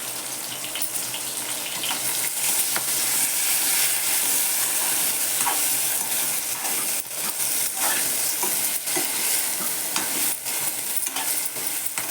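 Spice masala for stuffed okra being stirred and fried in a pan, a constant close sizzle with scraping stir strokes throughout.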